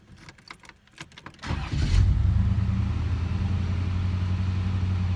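A 1955 car's engine is cranked and catches after some clicks and rattles, then settles into a loud, steady low idle close by, continuing without talk.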